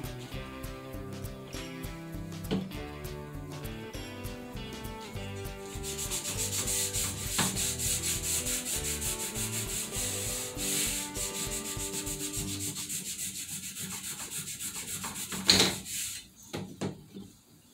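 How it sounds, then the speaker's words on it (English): An aluminum bus window frame being rubbed and polished with Brasso to work off stuck-on grime, with repeated close scrubbing strokes and squeaky friction, steady and moderately loud. "My next step is I'm going to use Brasso, go over the whole thing."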